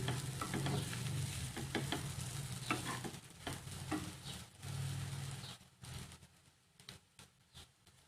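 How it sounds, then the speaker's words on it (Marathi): Soaked kurdai, dried wheat crisps, are stir-fried in a pan, giving a run of rhythmic scraping and sizzling strokes that fade to near quiet in the final seconds. "कुरड्या टाकूया या पद्धतीने आणि छान परतून घ्यायच्या आहेत या पद्धतीने"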